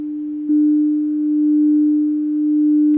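Steady pure tone from a Yaesu FTdx10 transceiver during reference oscillator adjustment, starting abruptly after a short lead-in and holding with a slow wavy beating in loudness, alone and clear.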